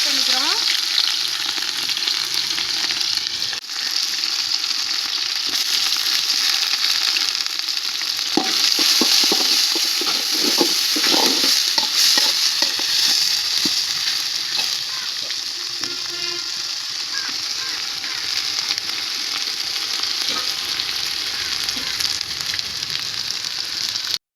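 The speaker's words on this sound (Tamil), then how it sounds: "வெங்காயம் ரோஸ்டட் ஆகணும் எந்த அளவுக்கு இது ரோஸ்டட் ஆகுதோ அந்த அளவுக்கு டேஸ்ட்டு கொடுக்கும்" Onions fry with garam masala in hot oil, a loud continuous close-up sizzle broken by stirring scrapes and splattering bursts, with a voice talking faintly over parts of it.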